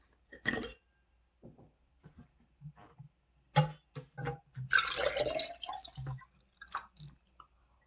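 Someone drinking water during a break, with a few soft swallows and small wet sounds at close range. The sounds come in short, separate bursts with quiet gaps between them.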